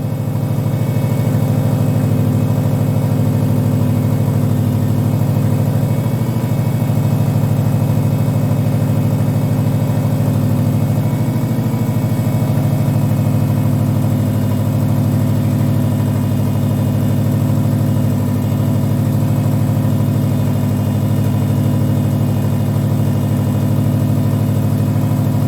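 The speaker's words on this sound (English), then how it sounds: "The engine started" Steady idle of a 2009 Subaru Impreza's 2.5-litre SOHC EJ253 engine with an exhaust leak, an even low rumble held for the whole stretch, close and loud, with no voices.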